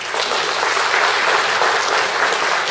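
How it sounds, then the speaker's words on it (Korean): Audience applause after a keynote speech at a hanbok symposium, a dense steady wash of clapping from a large crowd, loud and sustained throughout. "다시 한번 감사의 큰 박수 부탁드립니다"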